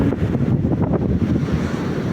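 Strong wind gusting off the sea along Borongan boulevard in Eastern Samar, a steady loud rush buffeting the microphone, with surf-like roar underneath and no voices.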